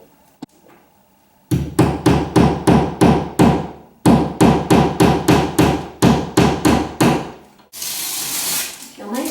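Sharp hammer blows drive wall picture hangers into a wall to hold a heavy mirror, two fast even series of strikes, close and loud, followed by a brief rustle.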